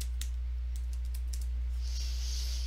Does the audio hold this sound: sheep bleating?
no